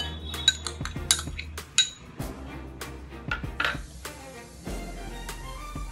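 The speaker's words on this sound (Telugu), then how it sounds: "ఇప్పుడు వీటన్నిటిని మిక్స్ చేసుకుందాం" Metal spoon clinking and scraping against a bowl while boiled peanuts are tossed with onion, tomato and lemon juice for a peanut chaat, a run of sharp close clinks and scrapes with no talking.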